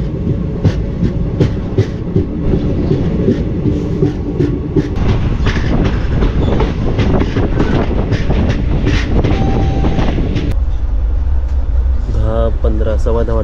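A passenger train pulls into Rajapur Road station with loud, continuous rumbling and clattering wheels and brief squeals, then the noise drops as it slows near the end while people talk nearby.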